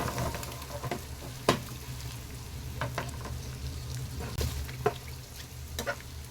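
Egg yolk fries in a pan during an egg fry, a steady soft sizzle with gentle scraping as it is stirred slowly and occasional light taps of the spoon against the pan.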